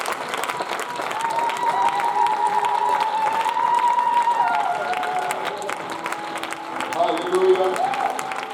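A church congregation applauds and cheers in a sustained, dense wash of clapping, with a voice or sung tones carrying over the crowd.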